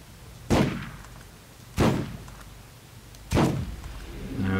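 Three heavy gunshots from a powerful gun in the video game Borderlands boom at spaced intervals, each a loud blast with a decaying tail.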